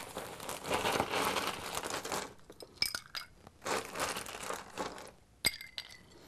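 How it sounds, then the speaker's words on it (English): Ice goes into a mint julep glass of bourbon and muddled mint as a rough, crunchy clatter, then several separate clinks and rattles of cubes settling, close and fairly loud. "And then we're going to go ahead and add our ice."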